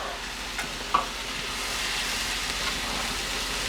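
Flour stirred into sausage grease in a pan to make gravy, giving a soft, steady hiss and sizzle with light scraping and one sharp clink of the utensil early on, close and without speech.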